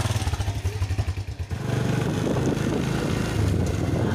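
Motorbike ridden along a village road toward a river in Ciamis, with a steady close engine drone and wind buffeting the microphone throughout, rougher idle-like pulsing in the first moments before it settles into continuous riding.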